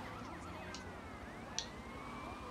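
A police car siren wails in the Grand Theft Auto: Vice City game, rising and falling sweeps at moderate level over low engine rumble, with a brief sharp click partway through.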